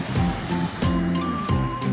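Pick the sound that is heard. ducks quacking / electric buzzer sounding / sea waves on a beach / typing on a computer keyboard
sea waves on a beach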